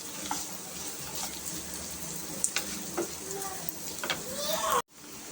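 Mutton fries in its own fat, making a moderate, close sizzle with some stirring and a few clinks. The sound is fairly quiet and cuts off abruptly near the end.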